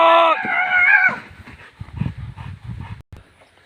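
A dog during aggression and bite-work training gives a loud, tonal bark or growl at the start, followed by quieter scuffling, panting and movement noises close by. No one speaks.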